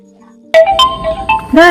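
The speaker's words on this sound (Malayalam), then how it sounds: "ഫോൺ വിളിക്കുന്നു" After a quiet moment, a phone ringtone bursts in loud and close, playing a bright run of electronic melody notes.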